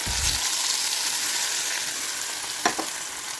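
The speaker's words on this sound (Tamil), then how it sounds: "இப்போ நம்மளோட கரைச்சி வச்சுருக்க புளியும் மிளகா தண்ணியும் சேர்த்து ஊற்றிக்கலாம்." Tamarind and chili water poured into a hot pan hisses and sizzles loudly, settling into a steady frying crackle with a couple of sharp spatters near the end.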